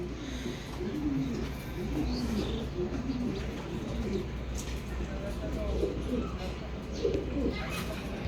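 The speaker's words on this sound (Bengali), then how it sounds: "এটা নর কবুতর, অনেক স্পেশালি নর।" Young male racing pigeons in a cage coo in low, repeated rolling phrases over a steady low hum and background noise, with a few faint chirps.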